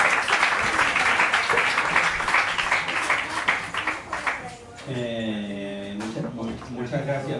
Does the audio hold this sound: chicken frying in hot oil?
no